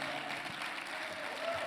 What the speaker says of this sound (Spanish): Alguien dice amén y le da un fuerte aplauso al Señor.